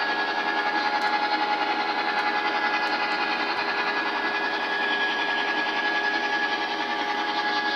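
A Bachmann HO Thunder Chief set locomotive runs with an F7B dummy unit in tow, giving a close, steady electric whir with a faint high whine that continues unbroken throughout.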